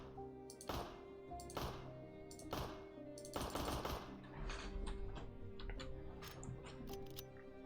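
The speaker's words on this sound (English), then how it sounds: "it makes a Glock firing sound effect when we shoot" A Glock pistol sound effect plays in a VRChat custom combat-system setup, with several separate sharp shots spaced about a second apart, fairly quiet and alone without talk.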